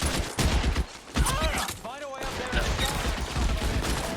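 Gunfire rings out in the video game L.A. Noire, with sharp bursts of shots over a busy game soundtrack and voices.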